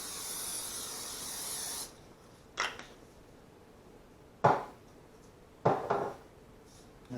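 Hissing spray of oil onto the bottom of a large baking pan, a sustained spray at first followed by three short separate bursts, with faint clinks in between.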